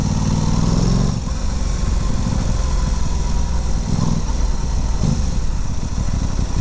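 Aprilia Tuono 660 motorcycle engine running steadily and loud up close, a continuous low rumble with brief rises in pitch, no talking.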